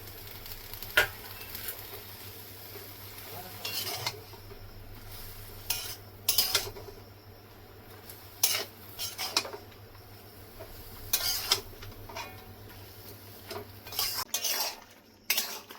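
Bottle gourd greens tossed into a cooking pan and stirred, with repeated scraping and clattering of a utensil against the pan over a steady low hum and a faint sizzle, in irregular bursts.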